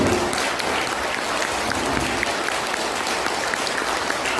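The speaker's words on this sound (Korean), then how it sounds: "함께 큰 박수를 치며" A crowd at a Korean writers' lecture event gives sustained applause, dense and even, heard alone at moderate level throughout.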